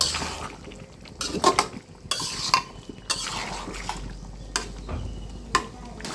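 A spoon stirs chunks of potato and chicken in a metal cooking pot, giving repeated scraping clatters and knocks at an uneven rhythm, close and fairly loud, with faint sizzling underneath.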